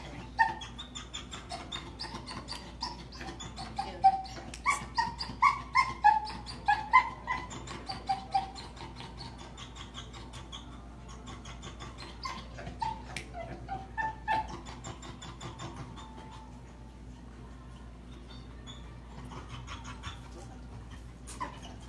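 A dog whimpering and giving small yips, soft and fairly distant, in a repeated series of short high cries spread across the clip over low steady background hum.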